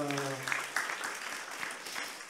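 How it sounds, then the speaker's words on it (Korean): Congregation clapping during a Sunday morning church service, a brief burst of dense applause that follows a fading sung or spoken tone at the start. "박수합니다."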